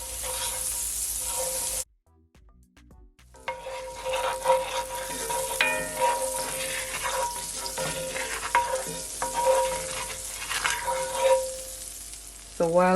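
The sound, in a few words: butter melting and sizzling in a pot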